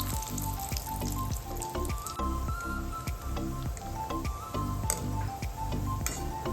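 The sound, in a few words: coconut frying in oil for farali chivda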